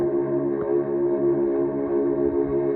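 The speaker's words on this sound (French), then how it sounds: "on va donner un petit coup de corne de brume." Foghorn sound effect from a radio-controlled model boat, produced by an onboard sound module, a steady, loud tonal blast with stacked harmonics held for the full few seconds.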